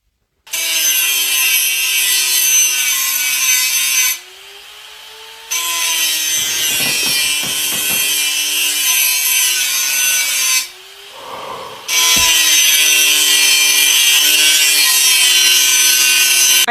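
An angle grinder meme effect: a loud, steady whining grind with strong harmonic tones, broken by two short drops in pitch and level around four and eleven seconds. Rough scraping bursts run underneath in the middle, and it ends on sustained full-volume grinding.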